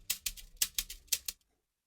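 A shaker sample in a beat, giving a quick run of about eight crisp, rhythmic rattling shakes, close and dry, before cutting to silence.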